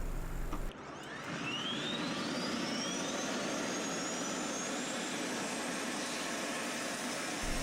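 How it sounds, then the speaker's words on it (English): The small jet fuel starter on an F-16 spins up the fighter's main jet engine on the flight line at Kadena Air Base, Japan: a steady loud roar with a high whine climbing in pitch over several seconds. "that little jet engine spins up the big jet engine"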